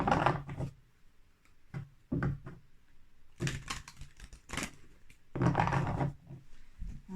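Tarot cards shuffled by hand in several distinct bursts, each a brisk papery rush of cards sliding and tapping together, separated by short quiet gaps, close and clear with no speech.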